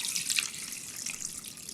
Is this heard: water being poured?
yes